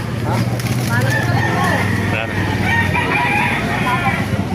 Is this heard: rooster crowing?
yes